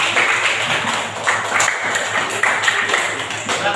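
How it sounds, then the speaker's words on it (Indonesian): A classroom of students applauds a group after its presentation, steady overlapping clapping running the whole time at moderate level, with a few sharper claps standing out. "tepuk tangan untuk kelompok 1"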